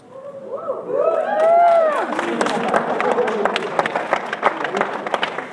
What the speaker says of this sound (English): I hope you're still clapping after I read it.